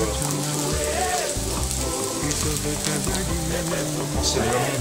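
Vegetables sweating in a pan, giving a steady, gentle, continuous sizzle and crackle heard up close throughout.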